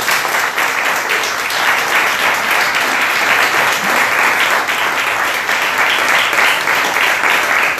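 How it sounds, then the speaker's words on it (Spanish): At a book presentation, an audience applauds author Alejandro Ulloa with sustained, even clapping that holds at full strength for nearly eight seconds, with no speech over it. "un aplauso más para Alejandro Ulloa"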